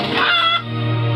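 Chickens cluck and squawk loudly and close by in a brief burst, with a rooster-like call in the mix.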